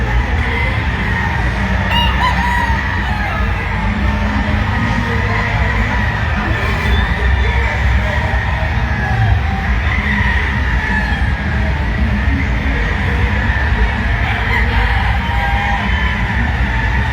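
Chickens and roosters at a poultry expo, a dense crowd of fowl with crowing and clucking layered over constant hall noise and murmuring people throughout.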